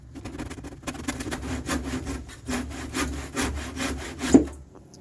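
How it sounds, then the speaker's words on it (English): A handsaw cuts through a wooden cutout for a wine bar, with a close, loud series of rhythmic rasping strokes that end with a sharp final stroke. "So I ended up having to finish this cutout with a handsaw."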